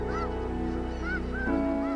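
A flock of migrating geese honks over the wetlands of Izembek National Wildlife Refuge near Cold Bay, Alaska, giving repeated rising calls spread across two seconds over a steady low background drone.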